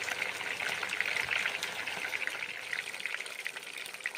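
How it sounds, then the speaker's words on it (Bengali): Pieces of bhetki fish fry in hot oil in a home kitchen, giving a steady, soft, faint crackling hiss with no voices. "তারপর আবার মাছ ভেজে নিচ্ছি"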